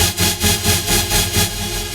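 Future bass wavetable synth patch with a down-pitch envelope, loud pulsing chords swelling and dipping about every quarter second, dense and bright, played alone.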